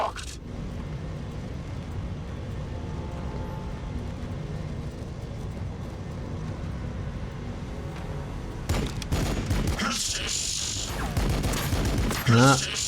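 Units trading gunfire in the video game Warhammer 40,000: Battlesector, a continuous crackling barrage under a low rumble, then sharper, louder bursts of shots near the end.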